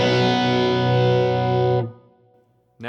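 A loud, distorted electric guitar chord rings through an amplifier for nearly two seconds, then cuts off into near silence before another burst begins.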